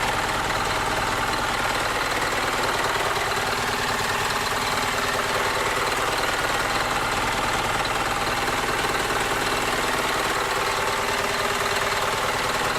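A 2015 Isuzu Forward truck's 5.2-litre 4HK1-TCS intercooled turbo diesel engine idles steadily up close, a loud continuous rumble with an even mechanical clatter throughout.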